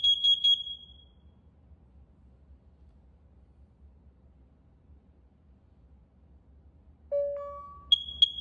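A Nest Protect second-generation alarm sounds during a carbon monoxide test: a quick burst of shrill high beeps, a long quiet gap, then a lower chime tone followed by more sharp beeps, all clear and close.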